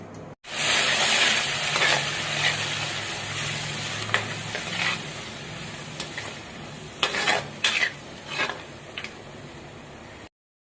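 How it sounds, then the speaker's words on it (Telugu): Four unpeeled garlic cloves sizzle in a pan for mint chutney, with steady frying hiss and scattered stirring scrapes and clicks near the end, close and moderately loud with no talk. "చెట్లోకి 4 వెల్లుల్లిపాయలు పొట్టు తీయకుండా వేస్తున్నాను"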